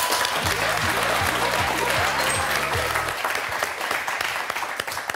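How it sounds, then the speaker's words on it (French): Studio audience on a French word game show giving a loud, sustained round of applause, with a musical jingle of repeated low tones playing underneath for the first few seconds. "Bravo, on vous applaudit."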